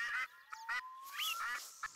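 Geese honk in quick nasal calls over a couple of seconds in the hunting game theHunter: Call of the Wild on the Revontuli Coast, close and distinct with short repeated bursts.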